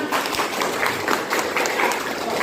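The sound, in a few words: applause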